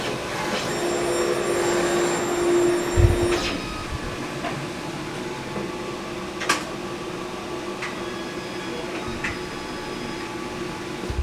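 A DTG garment printer lays down a shirt design, its print head sweeping back and forth in a steady mechanical whir with a sliding clunk near the start, then a lighter running hum with occasional clicks.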